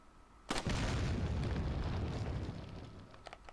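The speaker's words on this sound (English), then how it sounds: "Not a massive explosion like that." A dynamite blast in the video game Resident Evil 4 sets off a sudden loud boom, then a long rumbling roar that slowly fades, with faint crackling near the end.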